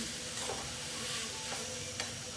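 A soybean bhurji mixture with tomato is stirred in a pan, giving a faint, steady sizzle with a few soft scraping clicks of the spoon.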